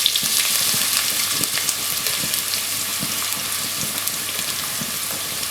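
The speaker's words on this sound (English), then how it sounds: "I'm going to saute and brown the onions for a good few minutes" Onions sautéing in hot oil with cumin seeds and bay leaves for a chicken masala curry: a steady, close crackling sizzle with scattered pops and stirring scrapes, no voice.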